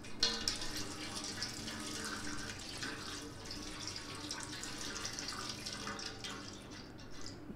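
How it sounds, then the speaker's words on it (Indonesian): 600 ml of water is poured for a vanilla popsicle mix, a continuous soft splashing stream with a faint trickle and drips, steady and close, without speech. "Untuk perisa vanila, first kali kita masukkan air 600 ml."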